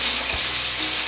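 Chilies sizzling in a hot pan for Kerabu salad: a dense, steady frying hiss heard close and fairly loud, with a brief low bump partway through and no voices.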